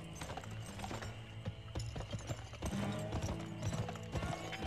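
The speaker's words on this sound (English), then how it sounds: "Oh, there's a horse." Horse hooves clip-clopping in the 2005 video game GUN outside Dodge City, a steady rhythmic trot sitting under continuous game music and ambient effects.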